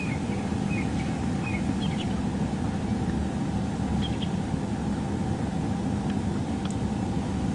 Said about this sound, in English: But I do hear some wonderful bird song all around. Franklins, starlings, sparrows.